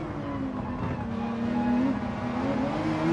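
Race car in Gran Turismo 7 drifting sideways in a power slide under braking, a steady loud engine drone with a wavering pitch and road noise, continuous throughout with no voices.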